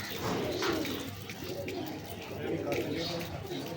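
Pigeons of a royal breed coo softly in a loft, their low repeated coos faint and close beneath someone talking throughout.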